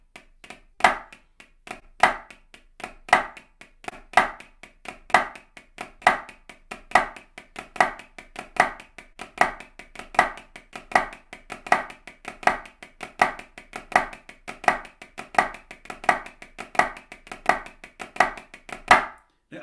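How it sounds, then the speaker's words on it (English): Sharp, steady snare drum strokes played with sticks in paired grace-note flams, pipe band style, soft unaccented grace notes, repeating evenly for about twenty seconds, dry and close with no talking. "the left hand flam is soft, you let it float in. No accent on it."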